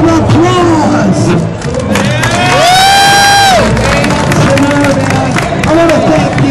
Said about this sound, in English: give us both a huge, huge round of applause.